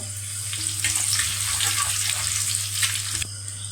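Curry leaves sizzle and crackle in hot oil after mustard seeds and fenugreek, a steady loud spattering hiss with sharp pops throughout, cutting off abruptly near the end.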